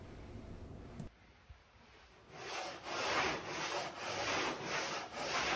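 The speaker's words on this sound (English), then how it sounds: "we could then move on to sanding with the longboard." A long sanding block rasps across a wooden boat hull in slow, rhythmic back-and-forth strokes, each pass a loud scratchy sweep, after a brief quiet start.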